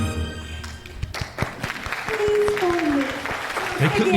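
Recorded audience applause plays in a radio studio as a dense, steady wash of clapping, with presenters talking over it.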